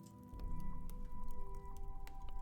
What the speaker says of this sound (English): The stream of murky water flows straight in the middle of the fireplace.